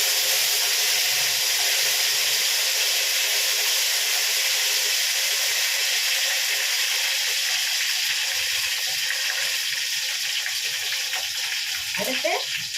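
Curry leaves sizzle in hot oil in a pan while sambar is being made, a steady close frying hiss that continues unbroken and fairly loud, with a faint clink near the end.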